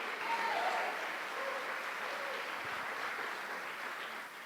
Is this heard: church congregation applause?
yes